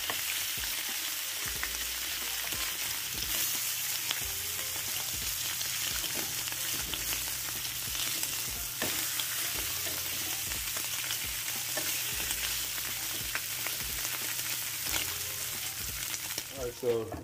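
Beef bacon fries in a pan, giving a continuous crackling sizzle with scattered pops and spits throughout, fairly quiet and close, with no voices.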